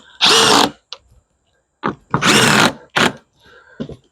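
A power drill drives roofing screws into a wooden bench-vice piece in several separate bursts, each a whining spin lasting under a second, up close and loud with short quiet gaps between them.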